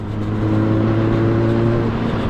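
A Harley-Davidson 2024 X350 motorcycle is ridden on the road, its engine loud and close with a steady, droning tone that holds for the whole clip, with no speech over it.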